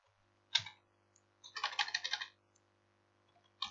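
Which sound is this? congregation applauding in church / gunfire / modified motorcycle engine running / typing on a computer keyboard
typing on a computer keyboard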